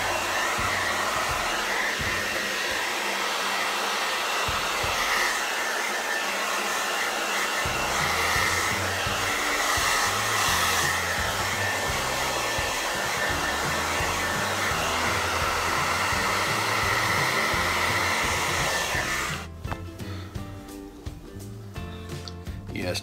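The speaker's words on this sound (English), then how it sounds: "Blow dry it out." A hair dryer on warm blows steadily at close range while drying out a beard, a loud, constant rushing whir that cuts off near the end, followed by quieter handling sounds.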